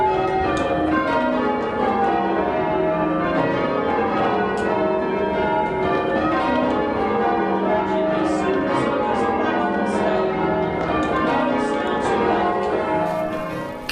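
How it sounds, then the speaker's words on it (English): Church bells change-rung by a team of ringers in North Shields, a continuous dense sequence of overlapping bell strikes in an even, rolling rhythm, loud and resonant with no talk. "So let's see some of today's bell ringers in action."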